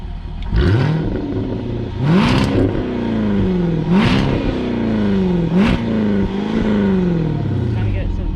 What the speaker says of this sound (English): This is quiet exhaust mode.